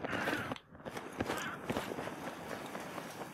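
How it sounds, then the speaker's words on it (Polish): Someone's footsteps pound across the ground in a Battlefield 4 multiplayer match, a quick run of close, moderately loud steps with the game's ambience behind them. "Ktoś tu biegał przed chwilą. Kogoś słyszałem."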